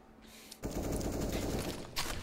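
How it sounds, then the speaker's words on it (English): Rapid bursts of Counter-Strike: Global Offensive gunfire rattle in quick succession, fairly faint and distant, continuing for about a second and a half with a final burst. "hears movement and a lot of gunfire just above the B ramp"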